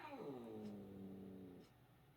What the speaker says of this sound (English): That's my cat's growling